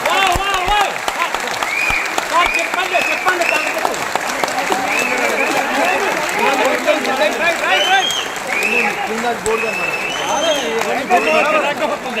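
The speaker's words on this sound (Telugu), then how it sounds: "చప్పట్లు కింద నుంచి ఎక్కువ వస్తాయా?" Audience applause at a felicitation ceremony in an auditorium, balcony and floor crowd clapping loudly and continuously as an enthusiastic dense roar, with voices and cheering mixed in throughout.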